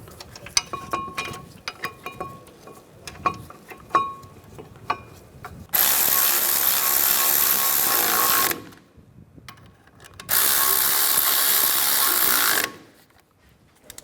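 Bolts on a 2007-2013 Mini Cooper front wheel hub bracket being run in, first with scattered metallic clicks and ratchet ticks, then two long loud bursts of a power tool whirring.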